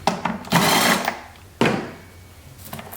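Two short bursts of a power tool spinning off 10mm bolts from a car engine's air filter housing, each a loud whirring buzz that stops abruptly, the second briefer than the first, with quiet pauses between.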